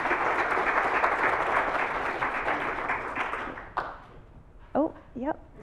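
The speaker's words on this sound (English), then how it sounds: "Let's give him a round of applause." Audience applause at a school forum, a burst of crowd clapping that fades out after a few seconds, followed by brief voices.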